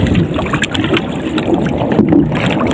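Strong wind buffets the microphone out on the water during night spearfishing from a small paddled boat in the Philippines, a loud, rough, continuous roar with gusty swells.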